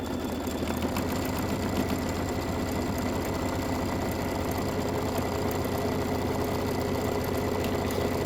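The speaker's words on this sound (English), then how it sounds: "this is about 6 more minutes of stitching, and it's going to do the satin stitch and some wing detail." Scan N Cut embroidery machine sewing a satin stitch and wing detail on a quilt block, a steady fast mechanical needle chatter with a low motor hum, loud and continuous throughout with no talking.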